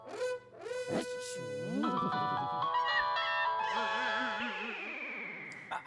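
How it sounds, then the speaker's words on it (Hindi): A melodic electronic ringtone plays loudly and continuously, a bright looping tune with warbling tones, no talking over it. "फोन है सुंदर, फोन।"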